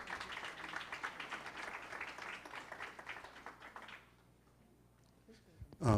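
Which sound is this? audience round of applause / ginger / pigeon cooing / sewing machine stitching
audience round of applause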